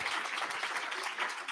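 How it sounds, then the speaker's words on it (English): Audience applause at a summit event, a steady wash of many hands clapping throughout, fairly dense and even with no clear pauses. "Yeah, clap. Come on, guys."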